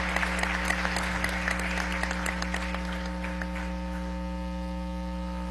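Applause in Venezuela's National Assembly session, a dense patter of clapping that fades out over a few seconds under a steady electrical hum.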